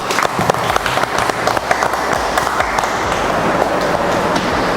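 Classroom applause during an automotive engineering teaching session, a loud dense burst of clapping from a group of students nearby, continuing steadily with some room noise underneath.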